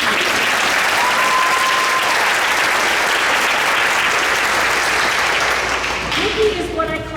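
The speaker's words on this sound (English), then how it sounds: "you want to clap for that?" Loud, sustained applause from an audience at a school spring orchestra concert, a dense wash of clapping that holds steady for several seconds and thins slightly near the end.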